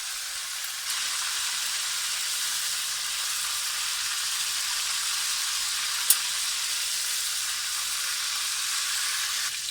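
Chicken pieces sizzle in hot oil in a karahi, a steady, dense frying hiss that runs unbroken throughout, with one brief clink partway through and no talking.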